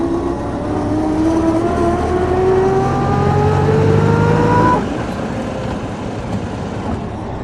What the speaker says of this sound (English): Oh, what a nice gear change.